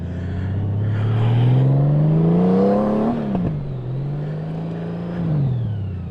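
A 2019 Honda Goldwing motorcycle rides a figure eight, its engine revving up smoothly, easing off, then climbing again through the turns, a close, steady drone with no talking.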